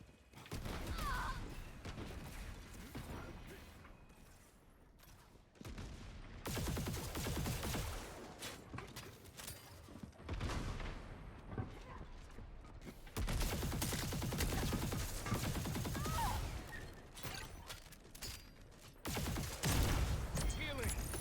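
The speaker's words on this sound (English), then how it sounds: "Shooting at my own teammates." Gunfire in the online shooter Concord, repeated bursts of automatic weapon fire with thumps and mechanical clicks, loud and continuous through the match with brief gaps.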